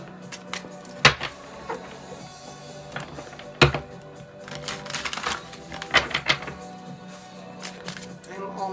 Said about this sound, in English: I'm almost done shuffling